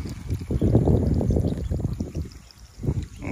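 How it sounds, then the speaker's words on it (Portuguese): Water running and trickling from a leaking hose outdoors beside a well, a steady broad wash of splashing flow that swells and dips slightly over a few seconds, fairly close. "Vazando muita água ainda."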